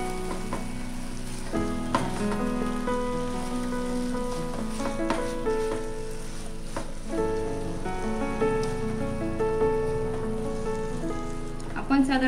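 Beetroot halwa with sugar is stirred and cooked in a pan, giving a steady sizzling, rain-like crackle that runs throughout beneath louder background music.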